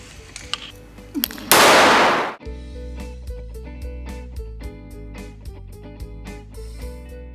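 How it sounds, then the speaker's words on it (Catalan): A ball set at the top of a circuit triggers an explosive chemical reaction: a single loud bang with a sharp burst and fading rush, after which rhythmic metallic clicks and clattering continue steadily. "Ja veieu que es tracta d'una reacció explosiva."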